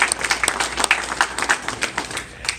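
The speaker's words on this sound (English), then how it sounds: "We want to really give these kids a nice round of applause." Audience applauding student athletes at a signing ceremony, a brisk patter of scattered hand claps with distinct individual claps standing out, moderately close and steady throughout.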